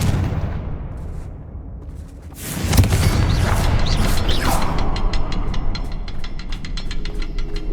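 A Confringo fire spell bursts in the Hogwarts Legacy video game with a sharp, loud blast followed by a sustained rumbling, crackling wash and fading metallic ringing.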